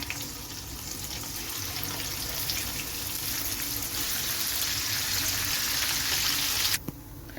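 Kilimeen fish, being fried in batches in hot oil for a fish pickle, give off a steady, dense sizzle that holds evenly throughout and then drops off abruptly near the end.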